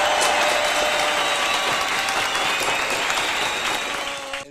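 A studio audience applauds for a celebrity cooking show, a full, continuous burst of many hands clapping that keeps even strength before tapering slightly at the very end.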